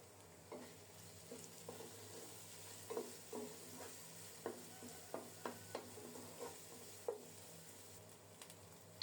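Ginger, coriander and cumin pastes fry in a pan with a faint steady sizzle, while a spatula scrapes and taps in a loose, regular series of quiet strokes; no one speaks.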